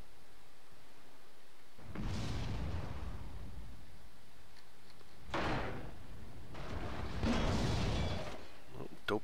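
Tank cannon shots in the World of Tanks video game: three heavy, booming blasts spaced a few seconds apart, loud and close, with trailing rumble over a low background hum.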